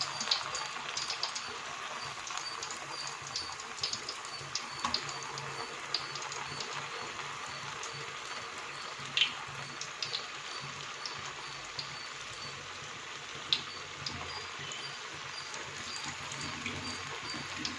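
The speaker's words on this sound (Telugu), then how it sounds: "ఆ లడ్డు డిప్ చేసి ఆయిల్లో వేస్తారన్నమాట" Burelu sweet dumplings frying in hot oil, a steady soft sizzling hiss with scattered faint pops, quiet and continuous.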